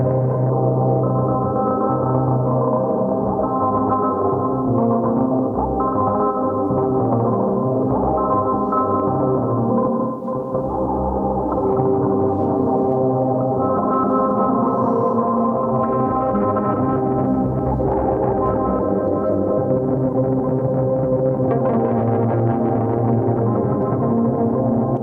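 Dense granular texture from a Hologram Electronics Microcosm pedal, a continuous shimmering wash of layered, smeared tones that drifts and thickens over about twenty-five seconds, with a brief dip near the middle.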